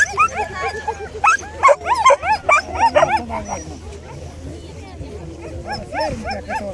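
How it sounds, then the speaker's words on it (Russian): A fluffy, stocky dog barks and yips in a quick series of sharp calls at an outdoor smelt festival in Anadyr, Chukotka, with people chatting close by and over the barks. "Собака чужая!"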